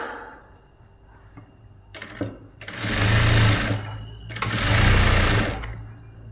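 A sewing machine stitches a neckline in two sustained bursts of rapid, buzzing needle action separated by brief pauses, with short clicks as the fabric is adjusted.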